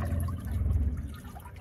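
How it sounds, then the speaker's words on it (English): A trolling motor propeller churns water steadily, a low, rushing wash with a continuous bubbling texture, close and fairly loud, no talking. "I barely turned it up and I can hear that water moving."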